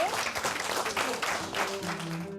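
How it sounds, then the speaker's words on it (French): Audience applause after a screening and discussion of a documentary on teaching against racism, steady dense clapping with voices and a faint tone mixed in, moderately loud throughout. "je voudrais à la fin, finalement, vous applaudir vraiment."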